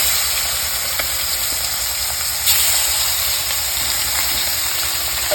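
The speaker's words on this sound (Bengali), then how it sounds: "এই যে তেল গরম হয়ে গেছে, এই দেখো মাংস দেবো।" Pieces of meat fry in hot oil, giving a steady, close hiss and sizzle that runs without a break for several seconds.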